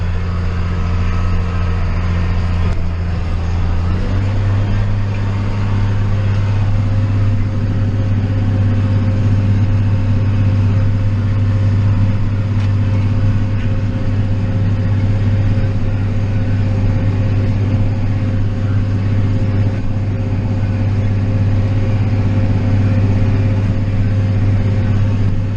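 A tractor pulling a disk, engine droning loud and steady with a deep, constant hum that drops slightly in pitch as it goes into gear, then runs on evenly throughout.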